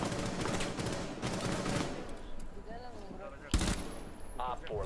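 Gunfire in the video game Rainbow Six Siege: a burst of rapid automatic shots early on, then a sharp single blast near the end, with players' voices talking over the action.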